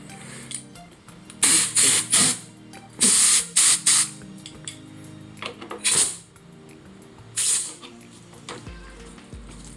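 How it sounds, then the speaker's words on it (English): Compressed air blasts during installation of a part on a motorcycle under restoration, coming as several short, loud hissing bursts separated by quieter pauses with light clinks of parts in between. "so using some air compressed."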